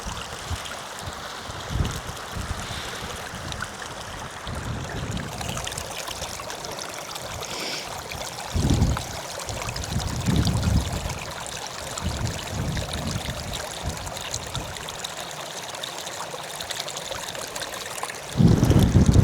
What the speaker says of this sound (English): This is crystal clear spring water.